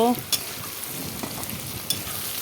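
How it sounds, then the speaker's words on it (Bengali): Potatoes seasoned with salt and turmeric fry in a pan with an even, close sizzle and a couple of sharp spoon knocks, with no talk over it. "আলুগুলোকে এখন লাল করে ভেজে নেব"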